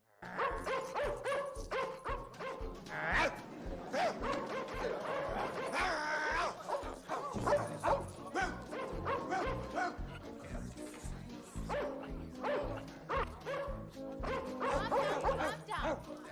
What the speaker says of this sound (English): Lucky starts barking, and so does Jack